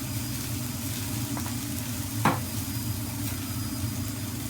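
Persian joojeh barg kebab sizzling over the heat, a steady, even hiss of grilling meat close by, with one brief click partway through and no talking.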